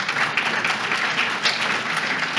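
Dense, continuous applause from a conference audience, steady and fairly loud for its whole short length.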